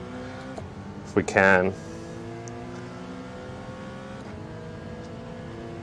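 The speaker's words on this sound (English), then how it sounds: "Let's overtake this Viper here," A Dodge Viper race car in Gran Turismo 7 drones steadily with a strong harmonic engine tone throughout, while someone talks briefly over it near the start.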